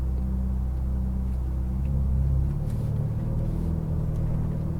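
A Ferrari 488 GTB idles with a low, steady engine rumble up close, easing forward with a slight swell in the drone and no break in the sound.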